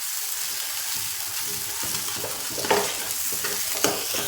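A methi matar malai base of tomato, chilli and salt is stirred in a hot pan, giving a close, steady sizzle with rhythmic spoon scrapes and a couple of louder clanks near the end, and no talking.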